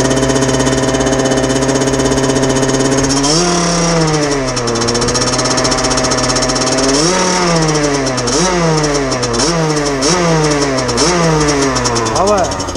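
Gilera SMT racing motorcycle engine, warm, revved hard and repeatedly close by, with rising and falling pitch sweeps over a loud steady buzz.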